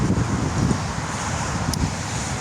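Strong wind buffeting a microphone outdoors, a continuous rough roar with gusty swells and no voices.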